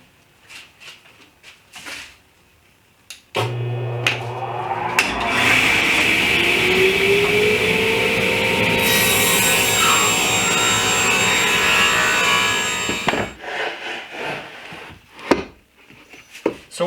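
Saw cutting through a piece of wood for shelf legs, a sustained rasping stroke lasting about ten seconds, loud and close, framed by quieter handling knocks and shuffles before and after.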